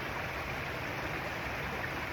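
Running water from a stream rushes in a constant, close, broadband hiss with no breaks and no voices over it.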